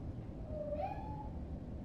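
A house cat gives a single rising-then-falling meow, fairly clear against a steady low background hum, with no talk over it.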